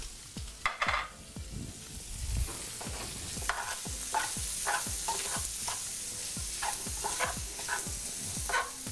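Rhythmic stirring of chopped onions and minced garlic sizzling in a hot pan, a spoon scraping through every half second or so over a continuous frying hiss, close and clear with no talking.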